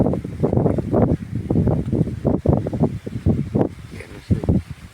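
Strong afternoon wind sweeping through a village, gusting in loud buffeting bursts against the microphone with rustling in between, steady and close throughout.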